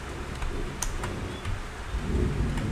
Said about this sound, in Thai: ฝนก็ตกฟ้าก็ร้อง